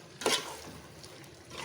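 A spoon scrapes and stirs through chicken biryani in a pot as garam masala is mixed in, one sharp scraping stroke followed by soft, faint sizzling and shuffling, no talk.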